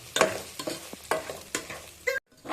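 Upma semolina (rava) frying with vegetables in a pan, with a series of close stirring scrapes and clinks over a soft sizzle and a brief silent gap near the end.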